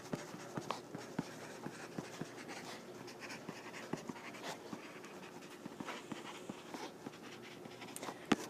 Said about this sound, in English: Let's just write a note here.